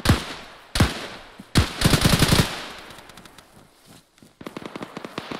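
A squad firing on close contact: loud, near gunshots in several bursts, single cracks followed by a rapid automatic volley, a brief lull, then another quick string of shots.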